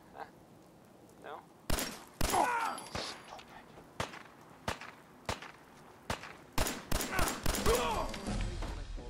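Pistol shots fired in Fallout 4 crack out as a dozen or so sharp, separate reports at irregular intervals, some clustered in quick bursts, with someone talking between them.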